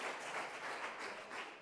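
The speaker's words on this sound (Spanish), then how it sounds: "¿Cuánto le pueden dar un fuerte aplauso al Señor Jesús?" A church congregation applauds in a dense, steady wash of clapping, moderately distant and fairly soft, with no talk over it.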